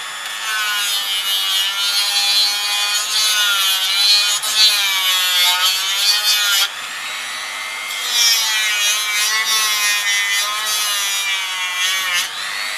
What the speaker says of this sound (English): So I give this a bit of shaping now with the Dremel.